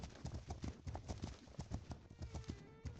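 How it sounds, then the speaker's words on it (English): Wild horses in The Legend of Khiimori, a video game, trot with steady clip-clopping hoofbeats in a quick rhythm, fairly close and alone with no talk. "Oh wow, there's so many wild horses here."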